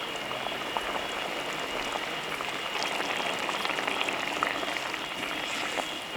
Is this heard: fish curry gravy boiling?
yes